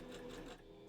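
A sewing machine runs steadily while stitching fabric for a fursuit bandanna, a dense continuous mechanical whir heard close up and alone for under a second.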